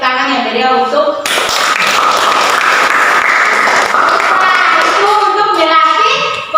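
Applause from a classroom audience of students and teachers, a steady broadband clatter of many clapping hands rising abruptly and holding for several seconds, with speaking voices before and after.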